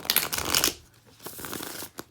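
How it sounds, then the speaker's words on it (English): A deck of playing cards is shuffled close by, a quick loud riffle burst followed by a few softer taps and slides of the cards settling. "I'm just going to shuffle and then get started"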